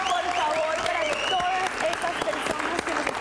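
Studio audience clapping on a Spanish-language morning TV show, in honour of a teenage girl at a fashion segment featuring models with disabilities; steady applause with voices and whoops rising over it, sustained throughout.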